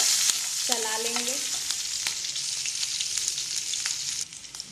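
Chopped green chillies fry in hot oil in a pan, a bright continuous sizzle with occasional scraping stirs, close and alone; a brief voice-like tone rises near the start.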